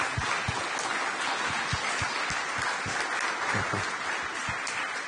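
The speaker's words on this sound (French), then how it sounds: "Je voudrais qu'on applaudisse nos orateurs." An audience at a French conference session on New Space and digital security applauds its speakers, a dense, continuous wash of clapping that holds steady at moderate loudness from start to finish.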